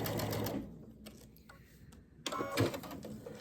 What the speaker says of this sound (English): Let me sew the left side of all of them